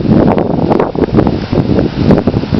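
Strong wind gusting around a home and trees as Hurricane Irma approaches, a loud, continuous roar with buffeting on the microphone and rustling, rising and falling in waves.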